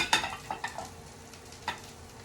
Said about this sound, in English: toss in some mushrooms. So far it's looking like a stir fry, kind of.